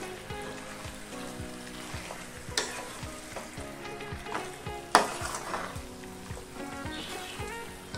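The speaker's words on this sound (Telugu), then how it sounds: "ఆయిల్ ఇలా పైకి తేలుతున్నప్పుడు ఇందులోకి చికెన్ వేసుకోవాలి।" Chicken frying in hot oil for pepper chicken masala, stirred with a utensil: a steady close sizzle with repeated scraping strokes and a couple of sharp knocks against the pan, no talking.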